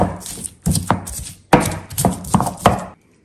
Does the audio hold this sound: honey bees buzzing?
no